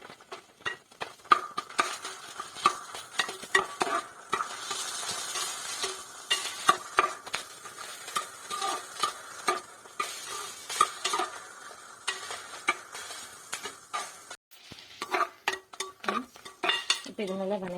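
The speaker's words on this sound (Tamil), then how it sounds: "வெங்காயம் வந்து நல்லா வதங்கிடணும்" Onions and green chilies sautéing in a pan while cooking mutton biryani, with steady stirring scrapes and clinks of a utensil against the pan over a soft sizzle, fairly close and continuous with no talk.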